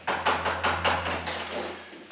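Three or so sharp knocks on a door ring out close and evenly spaced, followed by a few softer raps, with a low steady hum underneath and no voices.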